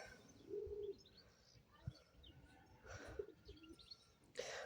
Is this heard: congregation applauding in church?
no